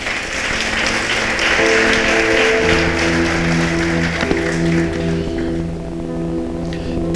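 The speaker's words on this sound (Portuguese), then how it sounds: "Se você entendeu isso, aplauda ele." A church congregation applauds steadily throughout, a dense wash of clapping with organ or keyboard chords sustaining beneath it.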